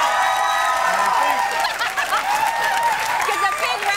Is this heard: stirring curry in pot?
no